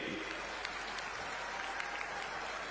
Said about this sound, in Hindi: एक बार जोरदार तालियों से स्वागत करिए